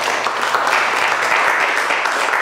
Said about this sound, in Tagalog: Bakit kayo pumapalakpak?